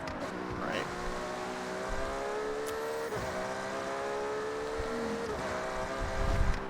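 Car engine in Forza Horizon driving game, revving through several rising gear pulls with short dips at each shift, steady and prominent throughout.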